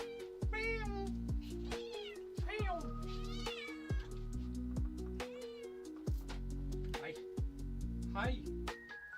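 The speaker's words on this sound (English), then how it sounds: "Oh, I hear my kitty cat screaming." A cat meows and caterwauls repeatedly, loud and insistent, rising and falling in pitch, over a steady musical backing with sharp rhythmic hits, as during a gaming stream.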